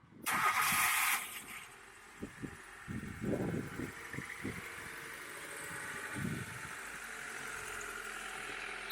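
A 6th-generation Honda Civic engine cranks and fires with a loud burst of starter noise, then settles into a steady idle alongside a few dull knocks and thumps.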